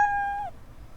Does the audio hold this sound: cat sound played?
yes